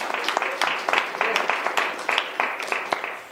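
An audience at a live Torah show claps in a steady, patchy rhythm of hand claps, with a voice talking over it.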